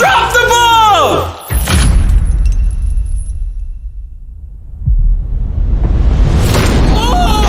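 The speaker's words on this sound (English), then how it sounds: "Fire, a bomb just went off!" A loud bomb-like blast from a dropped ball sets off a fiery explosion, a heavy thud followed by a long roaring rumble that slowly fades, with excited voices shouting before and after.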